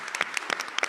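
Short burst of applause from a small audience at a board of education meeting, sparse distinct hand claps heard close, fairly loud, lasting about a second with no talk.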